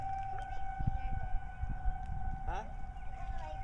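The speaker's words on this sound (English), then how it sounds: "Only in Kansas do we go outside when the sirens go off." Outdoor tornado warning sirens in Kansas wail with a long, steady tone in the distance, while people talk nearby and wind buffets the air.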